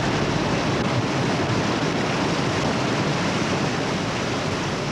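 Whitewater rapids on the river at Bala, Wales, during a water release for the 1981 Downriver World Championships, a steady, dense rushing roar filling the whole stretch with no pauses.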